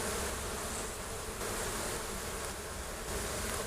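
Dense, steady buzzing of many honey bees swarming close around an opened hive during a June inspection with the queen excluder removed, continuous and fairly loud with no talking.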